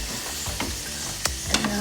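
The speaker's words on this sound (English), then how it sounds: "you can hear that sizzle, and you can smell that butter" Butter sizzles steadily in a hot frying pan, a close, continuous hiss with a few brief scraping clicks and clatters from the pan.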